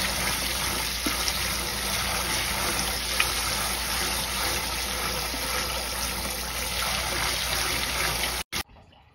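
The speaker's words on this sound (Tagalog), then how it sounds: "hugasan na natin yung bigas" Running water washing rice, a steady, full rushing flow throughout, cut off abruptly near the end.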